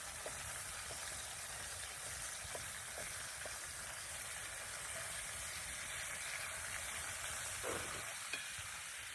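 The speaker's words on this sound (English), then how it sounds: "So I'll keep this bacon moving. Try and get it a little bit crispy." Bacon frying in a pan, a steady, quiet sizzle and crackle with occasional small pops and a brief stir or scrape, no talking.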